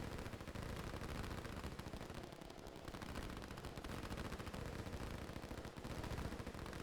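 Rapid infantry gunfire in the Line War strategy game, a dense continuous rattle of overlapping shots, fairly faint and steady throughout.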